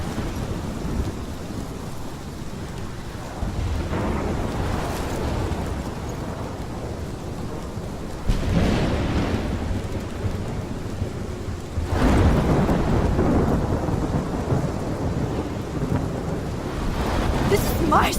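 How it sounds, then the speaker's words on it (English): Heavy thunderstorm in the game Life is Strange, with steady roaring rain and wind and several deep thunder rumbles and cracks rolling through, loud and continuous with no talk over it. "This is my storm. I caused this."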